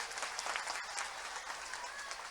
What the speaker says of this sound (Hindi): अभिनंदन करो अशोक भाई का जोरदार ताली बजा करके